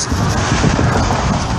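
Strong wind buffets the microphone outdoors on a hilltop landscape property, a loud, dense, steady roar filling the short moment.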